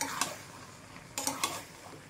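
Mutton keema ghugni with boiled potato is stirred in a pan after fried cinnamon, cardamom, cloves, dried chilli, bay leaf and cumin go in, giving a few quiet, brief scraping strokes over a faint sizzle.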